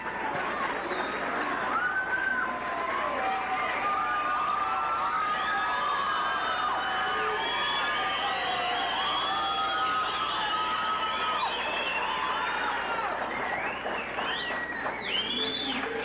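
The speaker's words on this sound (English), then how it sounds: "Nice round of applause. They deserve it." A pageant audience at the 1988 Miss Paramount contest claps and cheers for the contestants, with sustained loud whoops and shrieks riding over dense, continuous applause.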